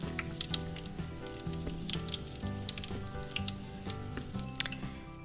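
Bomboloni dough frying in hot oil gives a steady, close sizzle with dense crackling and popping bubbles that continues throughout, with no talk.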